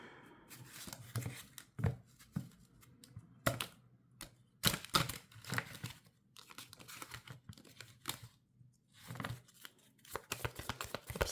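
Playing cards shuffled by hand, a series of crisp riffling and flapping bursts in quick irregular clusters, close and fairly quiet, with brief pauses between shuffles and no talking.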